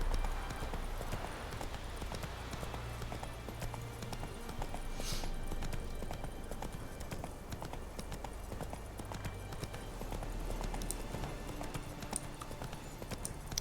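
Roach, a horse in the video game The Witcher 3: Wild Hunt, trots with steady rhythmic clip-clop hooves, close and continuous, over a busy game soundscape with a brief whinny-like burst.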